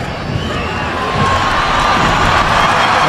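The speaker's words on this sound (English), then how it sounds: "Roared on by the home crowd" Home crowd in a packed stadium cheering during a 2012 Puerto Rico vs Spain friendly football match, a loud sustained roar that swells slightly over a few seconds, with scattered shouts.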